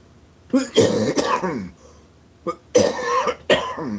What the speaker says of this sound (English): I am really sorry about this cough, people. This is worse than usual.